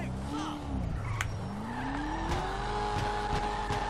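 Heavy 1000+ horsepower Cummins diesel truck with a new exhaust in GTA 5, engine revving and rising in pitch with sharp cracking backfire pops and tire squeal, a voice talking over it.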